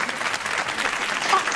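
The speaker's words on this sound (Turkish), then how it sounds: "Alkışlarınızla Leyla Aydın." A seated audience breaks into warm, steady applause, a dense wash of clapping that fills the whole moment at moderate loudness.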